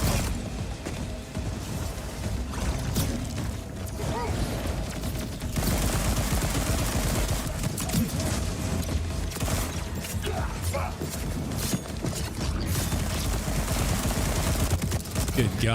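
A fast-firing gun in the shooter game Borderlands fires a continuous, dense stream of rapid shots with mechanical rattling throughout, loud and close, while someone talks over it.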